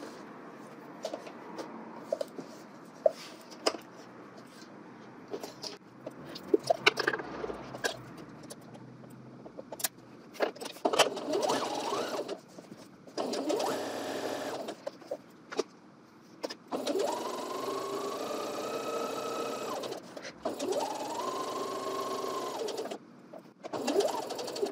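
Sewing machine stitching a 5/8-inch seam allowance on a garment, heard as bursts of mechanical whirring that start and stop, with a steady hum in longer runs toward the end; no speech.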